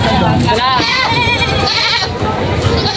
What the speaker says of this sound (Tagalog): Yung mga kambing dito na bagong dating.